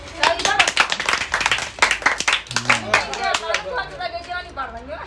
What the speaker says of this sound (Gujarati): હવે તાળીઓ પાડો હાલો